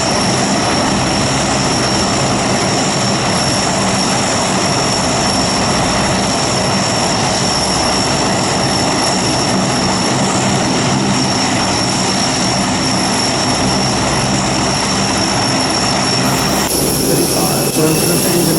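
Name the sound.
Lockheed Hercules L100 turboprop engines running in cockpit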